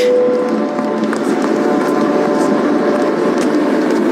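A train runs along at speed, a loud, steady rumble and rattle of wheels on rail with a faint sustained horn-like tone, continuous without a break.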